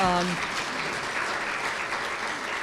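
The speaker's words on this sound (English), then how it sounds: "I think you all should give them a round of applause" A room of chamber luncheon attendees applauds the staff, a steady, moderately loud wash of clapping from start to finish, with a brief voice at the very beginning.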